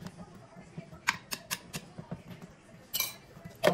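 Dishes and cutlery clink and clatter sharply as they are washed in a home kitchen, irregular close knocks of plates and utensils over faint background noise.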